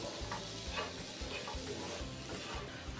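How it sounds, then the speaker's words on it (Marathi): A coconut and jaggery mixture being stirred in a pan for modak filling, heard as a soft scraping stir with a faint sizzle in repeated strokes, close and steady, without speech. "हे मिश्रण आहे ना सतत आपल्याला मिक्स करायचं आहे"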